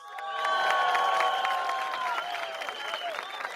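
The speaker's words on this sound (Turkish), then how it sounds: "sizi çok seviyor çocuklar diye bir alkış yapıyoruz" A crowd at a political rally in Kırşehir, Turkey, applauds and cheers loudly and steadily, with high voices chanting and calling over the clapping throughout.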